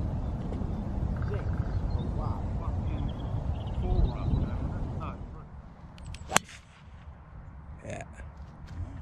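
A golf club strikes a ball outdoors, a single sharp crack standing out above a rumbling, noisy background, with people talking nearby before and after the hit.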